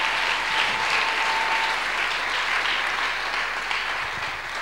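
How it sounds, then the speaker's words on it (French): An audience at a church sermon on the authority of the believer breaks into sustained, loud, steady applause with some cheering, filling the whole stretch evenly. "Est-ce que tu peux acclamer pour toi-même?"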